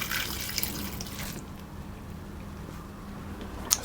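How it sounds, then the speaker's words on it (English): Water and lemon juice pour into a saucier pan, a steady running, splashy wash of liquid that starts fuller and settles into a softer trickle, with a small clink near the end. "I'm going to put my water into a pan, and I'm using my saucier"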